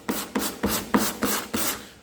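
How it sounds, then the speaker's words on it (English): Seven rhythmic, evenly spaced rasping strokes of hand sanding across body filler and a paint edge on a Toyota's bodywork, close and fairly loud. "I'm only sanding in the direction that the lip is sitting"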